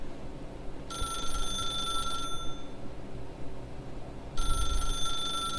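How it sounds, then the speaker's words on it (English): An unanswered telephone rings, two bursts of bright, metallic bell trilling over a low background hum, with a quiet pause between them. "I'm not picking up that phone. Just gonna let it ring."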